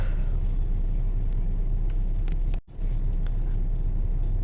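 A Renault Megane with a K4M petrol engine idles while warming up after a cold start in freezing frost, a steady low rumble close by, broken once by a very brief dropout.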